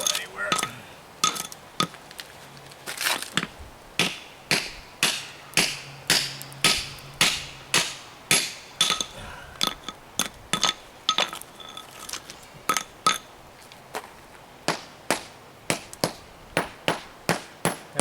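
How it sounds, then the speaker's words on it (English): Repeated hammer blows on a fire-spalled boulder, each strike a sharp, hollow knock with a metallic ring, landing in a steady, fairly quick rhythm close by for the whole stretch. "That hollow sound, it means there's a separation between this layer and the one below."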